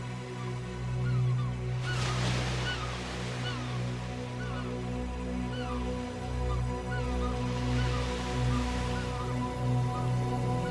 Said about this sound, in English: Dark rock faces plunge vertically into the Atlantic, where white waves explode against the base in constant motion.